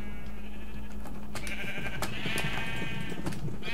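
Sheep in the Minecraft video game bleat several times in quick succession over a steady low background hum, fairly close and clear with no talking.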